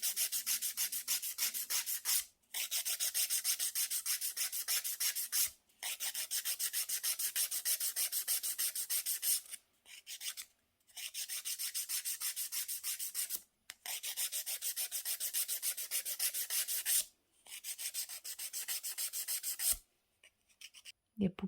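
A hand nail file shapes an extended gel nail into a coffin shape, giving steady broadband rasping strokes in long bursts separated by short pauses, close and even, with no talk.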